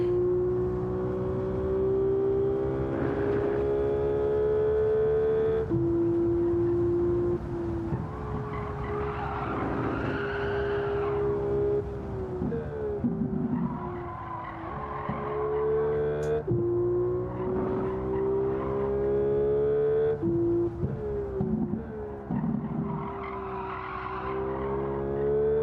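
A new car in Gran Turismo 7 driving hard, engine tone rising and falling through gear changes with long tire squeals and skids through corners, loud and continuous with occasional talk over it.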